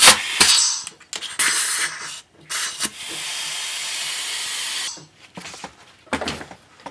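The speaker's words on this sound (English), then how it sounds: "you can hear the air rushing past that one" Compressed air rushes past the seal of a stuck brake caliper piston in short hissing bursts, then in one longer steady jet of several seconds, followed by a few more brief blasts, all close by with no talk.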